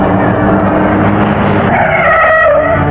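A car pulls away with tires squealing and skidding, a loud engine roar and a rising screech near the end, close by with no talk.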